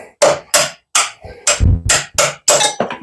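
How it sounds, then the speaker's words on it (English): A smaller hammer strikes a steel punch on a John Deere 430C final drive in about eight sharp metallic blows, close and loud, in an uneven rhythm with brief gaps between hits. "Smaller hammer."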